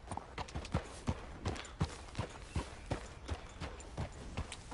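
A horse's hooves clip-clop in a steady rhythm in Red Dead, a close, regular run of thudding footfalls.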